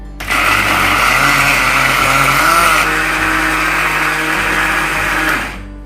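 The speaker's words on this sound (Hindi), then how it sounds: "अच्छे से इसको ग्राइंड कर लूंगा।" A mixer grinder whirs loudly and steadily, grinding masala for restaurant-style paneer butter masala into a smooth puree, then cuts off abruptly at the end.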